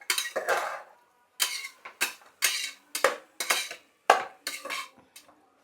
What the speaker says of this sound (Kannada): ಈಗ ತರಕಾರಿ, ಬಟಾಣಿ ಇದನ್ನೆಲ್ಲ ಸ್ವಲ್ಪ ಹಸಿ ವಾಸನೆ ಹೋಗೋವರೆಗೂ ಫ್ರೈ ಮಾಡ್ತೀನಿ